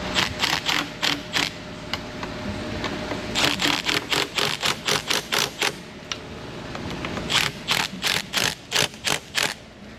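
Ratchet clicking while removing the four throttle body bolts on a Ram 1500 5.7 Hemi, heard as quick bursts of sharp, close clicks separated by short pauses.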